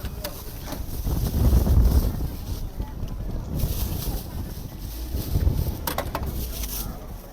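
A strong gale of about force seven to eight blows at a roadside tofu stall, rumbling and buffeting the microphone in heavy gusts. The wind swells and eases over the seconds, and muffled activity sits faintly in the background.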